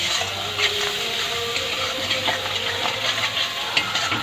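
Chicken with masala fries in a pan while being stirred: a close sizzle with repeated scraping and stirring strokes.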